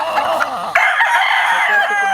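A gamecock rooster of the Albany line, straight-combed, crows loudly and close, one long drawn-out call with a break partway through.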